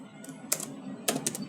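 Java code being typed on a computer keyboard: a few quick, close clusters of key clacks separated by short pauses, with no voice over them.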